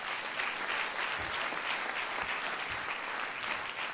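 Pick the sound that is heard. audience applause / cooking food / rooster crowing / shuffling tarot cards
audience applause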